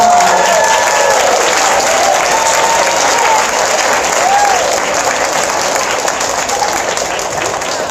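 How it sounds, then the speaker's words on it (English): An audience applauds the 5th grade choir at a school district's 50th anniversary celebration, a loud, dense, continuous roar of clapping from a large crowd that holds steady from start to finish. "Help me give our 5th grade choir another round of applause."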